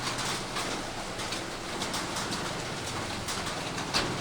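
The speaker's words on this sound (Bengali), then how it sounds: "কাল থেকে শুরু হয়েছে বৃষ্টি," Continuous rain falling outdoors, the downpour having kept up since the day before. A steady, moderately soft patter fills the scene, with occasional faint bird calls over it and no talking.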